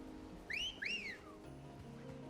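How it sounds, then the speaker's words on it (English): Two-note rising-falling whistle, like a cat-call, summoning a chocobo in Final Fantasy XVI, sounding clearly twice in quick succession over a low game background hum. "not the whistle I would have expected for calling an animal"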